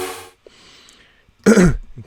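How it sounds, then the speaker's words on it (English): A man clears his throat once in a short gravelly burst, close and loud, following a brief musical tone and a quiet pause. "Clear my throat."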